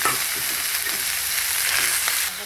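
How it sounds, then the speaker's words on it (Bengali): Onion and green chilli fry in a pan with a dense, continuous close sizzle and crackle, broken by soft stirring movements and with no voices. "লঙ্কা পেঁয়াজ দিয়ে ভাজা হচ্ছে"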